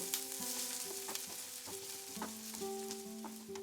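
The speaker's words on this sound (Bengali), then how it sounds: "তেলটা গরম হয়ে গেলে এর মধ্যে দিয়ে দিচ্ছি একটা বড় সাইজের কুচানো পেঁয়াজ। পেঁয়াজটাকে আমি 3-4 মিনিট মিডিয়াম আঁচে ফ্রাই করব।" Chopped onion frying in hot oil over a medium flame for chicken chop filling, a steady faint sizzle with a few soft stirring scrapes, no talk.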